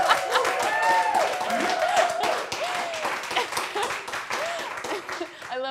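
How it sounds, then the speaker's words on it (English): Applause from a live audience at a talk-show session on kink and fetishes, a dense steady patter lasting several seconds with voices and cheering mixed in throughout, easing slightly near the end. "Let's give him a round of applause"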